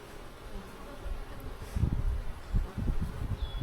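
Honeybees hum around an open backyard hive during a brood frame inspection, a soft steady low drone with swelling bursts of buzzing close by and no talking.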